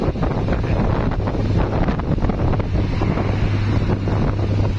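Wind buffets the microphone while riding a three-wheeled samlor. It makes a loud, steady rumbling rush throughout with no talking.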